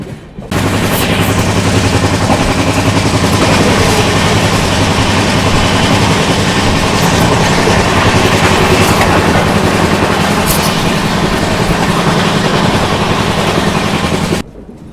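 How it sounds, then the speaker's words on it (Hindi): The Sitapur–LTT express passes a moving train on an Indian railway line with a loud, continuous rushing clatter that starts abruptly, holds steady for about fourteen seconds and cuts off just as suddenly. "अब सीतापुर LTT की क्रॉसिंग होगी, वो आपको दिखाता हूँ।"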